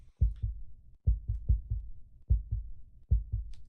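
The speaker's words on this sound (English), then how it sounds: "when you switch to the new heartbeat sound, it plays on the switch" Heartbeat sound effect looping in game music, a clear close lub-dub thumping repeated in a steady rhythm, four double beats over a few seconds with no talking.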